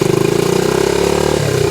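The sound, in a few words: motorcycle engine idling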